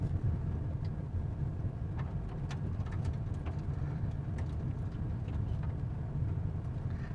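Nexen N'Fera SU4 tyres rolling over a rough road scattered with dirt and small stones, a steady low rumble sprinkled with quick crackling ticks of stones.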